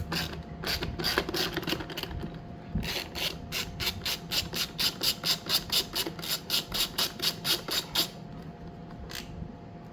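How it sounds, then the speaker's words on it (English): A ratchet wrench clicks rapidly and repeatedly while backing out bolts that hold a plastic panel on a 2003 Honda Elite 80 scooter, the close, sharp clicks coming in quick rhythmic bursts. "if we just pop these bolts out right here that are connecting this plastic"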